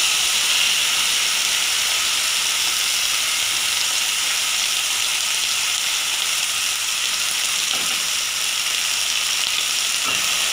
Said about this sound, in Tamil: இப்போ இந்த அரைச்சி வச்சுருக்கிற வெங்காய தக்காளி மசாலா இதில் போட்டு நல்லா ஃப்ரை பண்ணணும்.